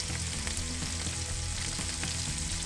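Paprika-coated fish frying in a hot pan, a steady close sizzle with crackling spatter running continuously and alone.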